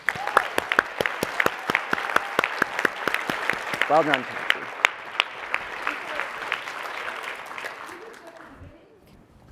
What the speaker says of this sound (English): I want to give them one last big round of applause